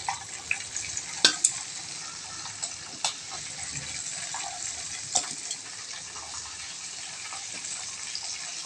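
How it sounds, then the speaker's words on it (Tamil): Chicken sizzles and crackles steadily in hot oil, with occasional louder pops and stirring clinks close by. "சிக்கன் பொரிச்சிட்டு இருக்கேன்"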